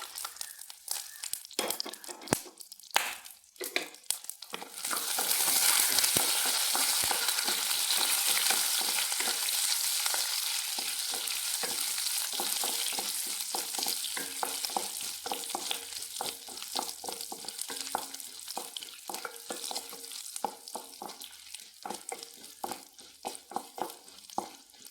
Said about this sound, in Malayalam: വെളിച്ചെണ്ണ ഒഴിച്ചിട്ട് നമുക്ക് ഇത്രയും കടലപ്പരിപ്പ്, അണ്ടിപ്പരിപ്പ്, വറ്റൽമുളക്, ഉഴുന്ന് ഇട്ട് കൊടുക്കാം.